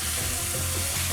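Eddoes stirred into vegetables frying in a pot give a steady, close sizzle with soft scraping from the stirring throughout.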